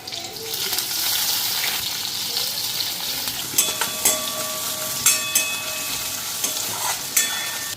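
Onion sizzling in a pan with dried and green chillies, a steady bright frying hiss punctuated by repeated clinks and scrapes of a utensil stirring against the pan.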